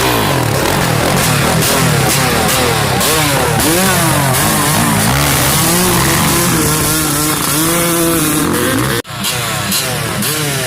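A dirt bike ridden with its choke left on over frozen, rock-hard ground gives a loud, close engine roar that revs continuously, its pitch rising and falling throughout.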